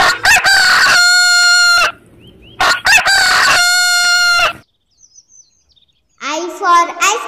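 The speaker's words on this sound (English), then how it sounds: "H for hen." A rooster crows twice in long, loud, close calls, and a short burst of clucking follows after a brief silence.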